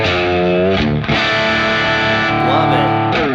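Distorted electric guitar through a standard distortion pedal into a 2x12 cabinet simulation, sustained chords and notes ringing out loud and continuous with a brief dip near the one-second mark.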